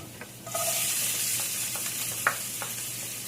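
Garlic frying in hot oil until golden brown for a steamed bigeye tuna with black beans dish: a sudden bright sizzle kicks in and holds steady, with soft scraping stirs and light clinks on top.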